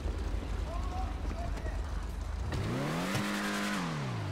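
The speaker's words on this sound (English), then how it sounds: "Give her a little rev." A car engine revs in a video game, rising then falling in pitch over a constant noisy background, with voices talking.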